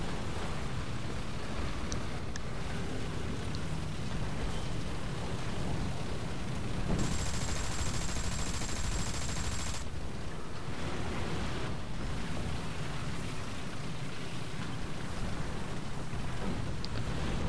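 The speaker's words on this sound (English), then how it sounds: "Eat my machine gun fire!" Sustained tank machine gun fire in War Thunder, a dense, loud roar of rapid shots running nearly unbroken through the whole stretch, with a brighter, harsher burst in the middle.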